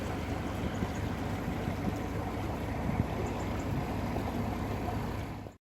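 A boat motor drones steadily across the water at Bunbury, a constant low churning hum with a wash of wind and water, fading out at the end.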